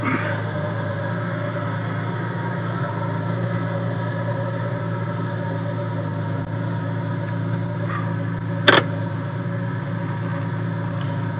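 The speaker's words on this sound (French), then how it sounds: "On va laisser chauffer un petit peu le moteur quand même." A TVR convertible idles while its engine warms up, giving a steady, even hum with no revving. One short click is heard near the end.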